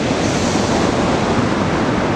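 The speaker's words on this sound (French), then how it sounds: "il y a quelques vagues qui passent de temps en temps sur le sable aussi" Ocean waves wash onto the sandy beach at Anglet with a loud, steady roar of surf and spray. A constant rush fills the whole stretch, with light wind buffeting the microphone and no voices.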